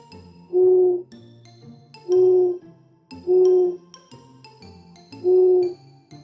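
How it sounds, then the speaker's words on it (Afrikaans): An owl hoots four times at steady intervals over a dark field at night, each call clear and prominent, with faint background night ambience between calls. "Wanneer dit lekker donker is, 'n uil wat oor die veld swiep."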